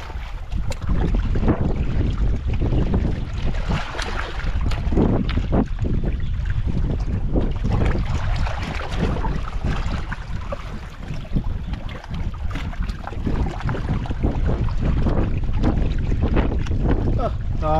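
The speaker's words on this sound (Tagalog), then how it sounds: "Grabing hangin to." Strong wind buffets a small fishing boat out on open water, a loud steady roar with gusts that fills the whole stretch while faint voices talk underneath.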